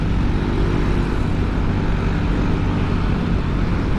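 Engine of a motorcycle fitted with a Rob One aftermarket exhaust, a steady close, loud drone holding at an even level for the whole stretch with no pauses or voices.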